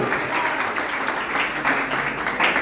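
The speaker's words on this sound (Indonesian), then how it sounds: "tepuk tangan bagi Tuhan" A church congregation claps during an Indonesian worship service, steady dense applause from a room full of people, moderately loud and continuous throughout.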